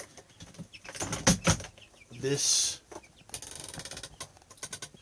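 Chickens kept indoors cluck and squawk in short bursts close by, with a brief mechanical whir in the middle and someone speaking a word in the background.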